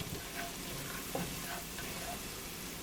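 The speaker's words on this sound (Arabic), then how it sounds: "غادي نحرك هذا الشيء كله هكا مزيان" Chicken biryani stirred in a pot, a constant hiss of cooking with occasional soft scrapes and clinks of the spoon against the pot, quiet and close with no speech.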